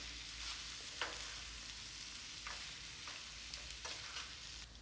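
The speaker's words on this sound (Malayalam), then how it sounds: "നല്ലപോലെ ഇളക്കി കൊടുക്കാം" Chicken curry fries in a pan, a steady close sizzle running throughout while a spoon stirs with a few soft scraping strokes at irregular intervals, with no talk.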